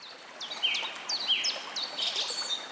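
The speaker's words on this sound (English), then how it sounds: "This is particularly a great place to listen to bird sounds and the wind." Several birds sing and chirp in Michigan woods, with repeated bright, rising and falling calls over a steady soft background, moderately close and clear with no voices.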